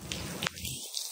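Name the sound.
rain falling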